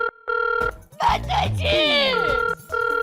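A telephone rings in repeated electronic bursts, loud and close, broken in the middle by a person speaking before the ringing resumes.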